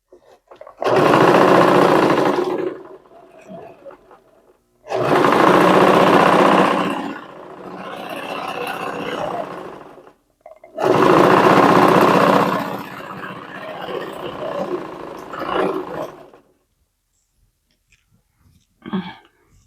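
A sewing machine stitches thin fabric for a dhoti salwar in three long, loud runs of several seconds each, separated by short quiet pauses, with softer, slower stitching trailing after each run.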